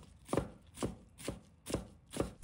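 A knife chops napa cabbage into small pieces on a board, five firm, evenly spaced thuds about half a second apart, close and alone.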